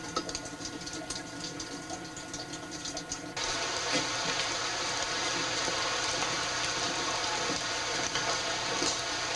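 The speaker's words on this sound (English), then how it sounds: "It sounds like a waterfall." Inside the Kaumana lava tube, a steady broadband rush of water like a waterfall fills the space, becoming louder and denser partway through and continuing without a break.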